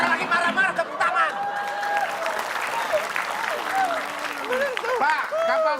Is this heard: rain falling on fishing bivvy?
no